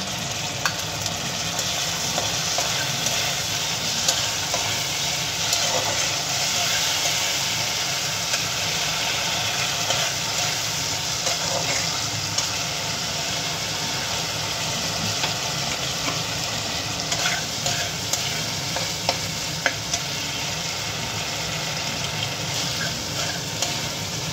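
Capsicum fries in a pan for chilli chicken while a sauce mix is stirred in: a steady, dense sizzle runs throughout with scattered scraping clicks from the stirring, close and even, with no talking.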